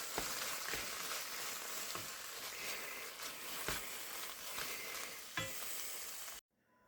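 Chicken and Alfredo sauce cook in a pan with a continuous, even sizzle and occasional soft stirring taps, close and without voices, cutting off abruptly at the end.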